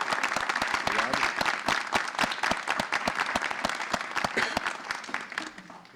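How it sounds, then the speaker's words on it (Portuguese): An audience claps in sustained, dense applause for the poet Sérgio Vaz, with many hands clapping close and loud before the applause gradually fades toward the end. "Vou pedir, então, uma salva de palmas para Sérgio Vaz"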